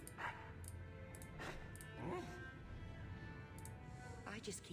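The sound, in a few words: dog whimpering in the Dragon Age video game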